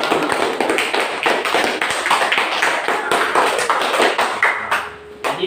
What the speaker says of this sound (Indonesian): Beri tepuk tangan juga untuk kelompok 4 yang kuat.